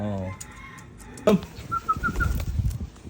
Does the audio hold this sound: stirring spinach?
no